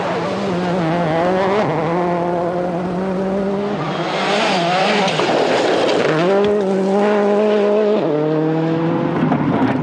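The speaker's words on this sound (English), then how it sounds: "from these shots of Richard Burns, you can see just how much the cars kick up as they blast through." Rally cars from the 2003 WRC Greece event blasting through a dusty gravel stage, loud sustained engine roar with shifting revs and gear changes, one car passing close and pulling away, tyres scrabbling on loose gravel.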